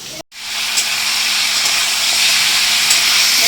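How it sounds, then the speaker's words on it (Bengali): Potatoes fry in a pan with a loud, continuous steamy hiss that begins after a brief cut and holds steady throughout. "আলু ভাজা হচ্ছে"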